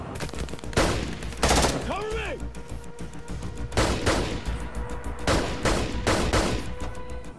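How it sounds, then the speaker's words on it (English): Blank rounds fired on a TV set ring out as sharp, loud gunshots in irregular bursts, some single and some in rapid clusters, with a faint voice briefly heard between volleys. "But then there are other times where we use blanks,"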